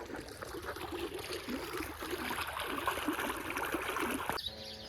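Canal water running through a channel into a millet field, a continuous gurgling trickle and stream outdoors, with a brief clatter near the end.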